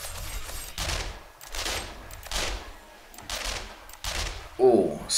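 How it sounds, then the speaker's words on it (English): Submachine gun fire in the zombie survival game 7 Days to Die comes in several short sharp bursts at a steady pace, loud and close, ending in a louder blast. "I love this SMG, it's so good. I prefer it over to any machine gun."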